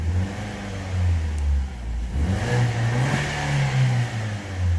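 A car engine at 63,000 kilometres, under repair for a valve problem, revs up loudly, then falls back and settles toward idle, heard up close with no talking.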